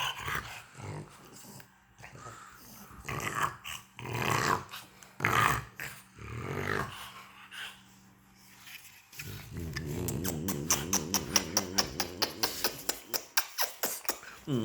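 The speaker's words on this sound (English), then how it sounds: "Bad dog." A pet dog, a French bulldog, growls and snorts during play, low rumbling over several seconds, then shifts into rapid rhythmic huffing grunts that pulse steadily toward the end.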